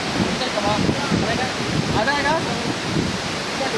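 Rushing water at Palali Falls in Malinao, Albay, Philippines, a steady broadband roar with wind buffeting the microphone and people talking nearby over it.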